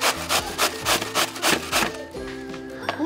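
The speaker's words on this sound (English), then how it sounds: "Purple cabbage, we trimmed it all off so it's nice and clean, and we're gonna use that side of the shredder." Purple cabbage rasps across a hand shredder in regular, rhythmic back-and-forth strokes, loud and close, followed by a quieter settling scrape with no voices.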